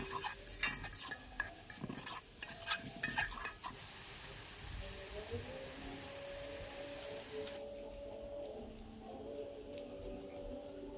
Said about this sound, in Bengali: পেঁয়াজ রসুন ভাজা হয়ে গিয়েছে